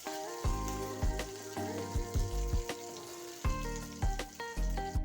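Garlic paste hitting hot oil as a tempering for kadhi, a steady close sizzle with repeated metal clanks and scrapes of a spoon against the pan.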